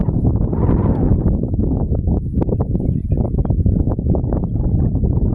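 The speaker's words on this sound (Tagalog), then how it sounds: "Nasa tabing dagat kami, kaya mahangin." Strong seaside wind buffets the microphone on a coastal hiking trail in Hong Kong, in loud, continuous gusts with a roaring, rumbling texture.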